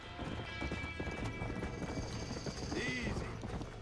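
Horses whinny and hooves clatter inside a burning barn in the video game Red Dead Redemption, with dense, loud, continuous commotion and a rising neigh near the end, mixed with shouting voices.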